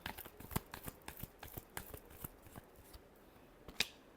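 Tarot cards get a final shuffle up close: a quiet run of quick, crisp riffling flicks and taps in an uneven rhythm, ending with one sharper snap.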